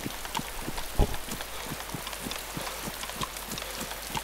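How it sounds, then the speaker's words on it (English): Steady rain falls in the video game DayZ, a dense hiss with scattered drop ticks and a regular soft tapping, one sharper knock near the start, no voices. "Oh, here comes the rain again."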